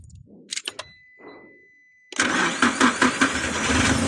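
A car engine left unused for a year cranks briefly and then catches, settling into a loud, steady mid-pitched idle after a short stretch of quiet handling noises.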